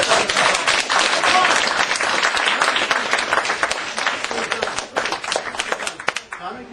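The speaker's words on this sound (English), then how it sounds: "Give a round of applause." Audience applause at a live magic performance and lecture, dense steady clapping from a room of spectators that stays loud throughout and thins slightly toward the end.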